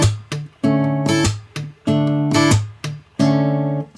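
Acoustic guitar plucks a song's ostinato at full speed, with the thumb hitting the top note: bright repeated picked notes in a steady rhythmic pattern of short bursts, close and clear, no talk.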